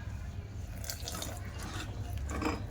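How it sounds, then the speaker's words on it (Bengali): Warm water is poured into a bowl of flour, salt and yeast for pizza dough, giving a steady close trickle and splash with drippy accents that run throughout without a break. "এবার ওর মধ্যে আমি একটু উষ্ণ গরম জল দিয়ে দেব"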